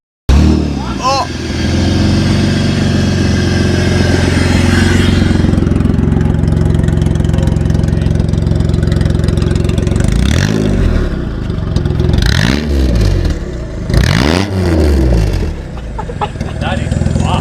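A car fitted with a new custom exhaust system idles with a burbling, clattering note, then revs hard in several loud, rising bursts close by, while people talk and shout over it.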